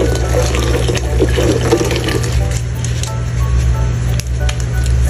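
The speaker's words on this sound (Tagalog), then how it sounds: "bago nga natin nilagay itong elbow pasta natin ay hugasan muna natin to" Running water pours and splashes steadily over elbow pasta in a sink, loud and close, with a constant hum underneath.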